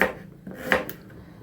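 Carrots are chopped into small pieces with a kitchen knife, giving a few sharp, close cuts against a board with brief pauses between them and no voices.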